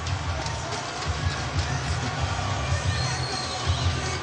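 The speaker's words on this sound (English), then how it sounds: "You can see and you can hear the thunder sticks as part of this atmosphere" Crowd in an indoor lacrosse arena at the NLL Champions Cup between Rochester and Arizona, a loud continuous roar with rhythmic thumping of thunder sticks and mixed shouting and voices throughout.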